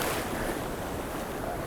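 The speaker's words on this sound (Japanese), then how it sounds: "波来ちゃったよ。" A winter ocean wave surges onto a rocky shore where someone is fishing, a steady wash of surf and spray mixed with wind noise on the microphone.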